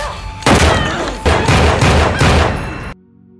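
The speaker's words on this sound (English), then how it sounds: "she shoots him multiple times with a gun she noticed under the table" A film scene of a woman firing a handgun several times at a man gives a loud burst of gunfire, booming in rapid overlapping shots for about two and a half seconds before cutting to near silence.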